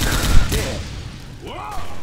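Gunfire in the Left 4 Dead 2 zombie shooter game, a quick cluster of sharp shots near the start followed by a later burst, mixed with game sound effects.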